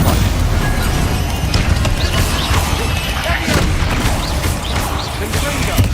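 Repeated Confringo fire spell explosions boom in Hogwarts Legacy during a spider fight, loud continuous blasts and crashes layered with game action and a player talking over them.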